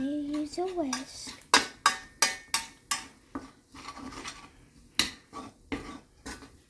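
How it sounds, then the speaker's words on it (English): A whisk scrapes and clinks against a pan while stirring flour into cooked sausage for gravy, a series of about ten sharp metallic strokes in steady rhythm, following a brief voice at the start. "now you want to stir this in so that it's cooked in nice. And usually you're going to use a whisk."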